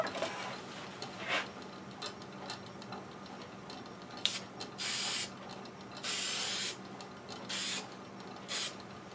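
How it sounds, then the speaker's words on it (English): An aerosol can of artist's fixative is sprayed onto a wooden hot air balloon ornament in four short, even hissing bursts, with quiet handling noises between them. "I'm going to use an artist's fixative, which just covers up, gives it sort of a matte surface, but it's used to separate one color from another, and I'll spray that on there"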